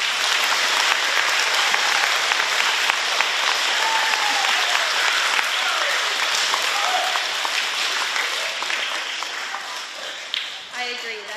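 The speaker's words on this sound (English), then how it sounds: "Yeah, we can clap for that." A school audience of elementary students applauds an astronaut's US record for the longest single spaceflight, steady dense clapping filling the room for the whole stretch and thinning slightly near the end.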